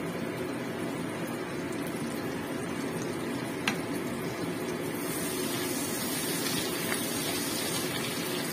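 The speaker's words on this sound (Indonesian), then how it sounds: "Kita mulai goreng sambalnya." Sambal chili paste for spicy squid frying in a pan, a steady close sizzle with occasional stirring scrapes, continuous with no talking.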